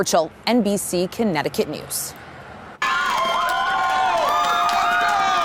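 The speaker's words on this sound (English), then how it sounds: "Nothing but cheers at La Boca Restaurant in Middletown tonight as the crowd learns political newcomer Ben Florsheim will become the next mayor of the city" An election-night crowd at La Boca Restaurant in Middletown cheers a new mayor. Someone speaks briefly, then loud, sustained cheering and whooping fill the room without a break.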